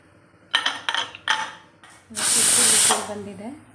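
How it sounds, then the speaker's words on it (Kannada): A few sharp clatters, then a loud hissing whistle of steam from a pressure cooker cooking bisi bele bath, blasting steadily for about a second before fading. "ಕುಕ್ಕರ್ ವಿಜಿಲ್ ಬಂದಿದೆ"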